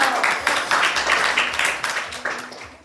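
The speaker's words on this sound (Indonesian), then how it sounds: "beri aplaus dulu dong" Indoor audience clapping at a motivational seminar in Malang, a steady burst of applause from a crowd lasting a few seconds, fairly close and dense with irregular claps.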